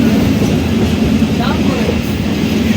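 Inside a Shovan class coach of the intercity Dhalarchar Express, a steady loud rumble of the running train fills the background while someone talks over it.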